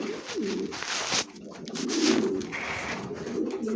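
Racing pigeons in a loft coo in low, throaty rolling calls, several overlapping birds close by, with cooing continuing steadily and no voices heard.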